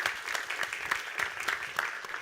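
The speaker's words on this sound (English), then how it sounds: "Let's just give them a big round of applause right now." Applause for the sponsors of the Medicine X conference, a steady crowd clapping of moderate loudness with fairly even, dense hand claps throughout.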